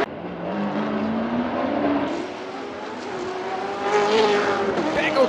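Stock Car Brasil race cars climb an uphill stretch at the Belo Horizonte street circuit, their engines droning and revving steadily at mid distance beneath a commentator talking throughout.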